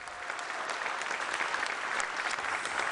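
Audience applauding at a Schlager hit-parade award ceremony for the first-place winner, steady dense clapping throughout at an even, moderately loud level with no voices on top.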